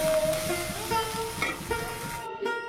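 Bitter gourd slices frying crisp in hot oil, a moderate sizzle with light stirring scrapes that cuts off abruptly near the end.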